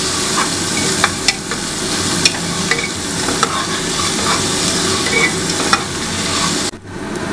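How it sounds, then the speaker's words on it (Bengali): Chopped onion and garlic fry in a pan with a loud, dense, steady sizzle and sharp spatula clicks scattered throughout, the hiss briefly dropping near the end. "নিয়ে এবারে জিনিসটাকে ভালো করে ফ্রাই করতে হবে।"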